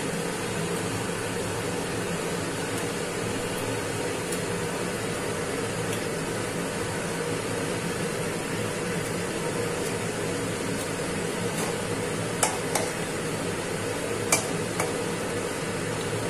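Fish pieces cooking in a boiling mustard paste sauce for a Bengali fish jhal, heard as a steady, even bubbling and sizzling hiss with a few faint clicks near the end and no speech.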